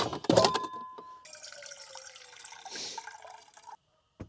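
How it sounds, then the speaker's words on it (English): Water runs from a tap into a metal pot nearby at a campground, splashing at first then a steady filling rush that stops abruptly. "got water in there"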